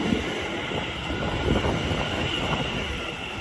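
A Greater Anglia class 720 electric multiple unit passes through Shenfield station, a steady broadband rumble of wheels and traction that holds at close range for the whole stretch.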